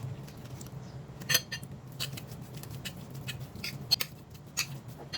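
Soft scraping and clinking of a utensil stirring a zucchini dish in a pan, irregular light taps and scrapes over a low steady hum, close and fairly quiet.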